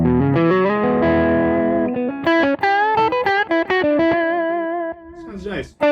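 An electric guitar played through a delay pedal set to fewer repeats rings out in picked notes and short phrases, each note trailing a brief echo, loud and close.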